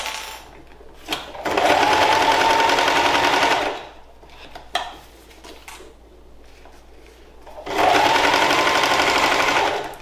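A sewing machine stitches oilcloth for a tote shopping or beach bag in two loud, steady runs of about two seconds each, separated by quieter handling noises and brief clicks.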